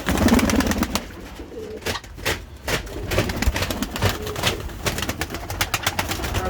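Pigeons coo at a street bird market selling chickens and pigeons, soft repeated coos mixed with wing flutters and sharp clicks, continuous and fairly close.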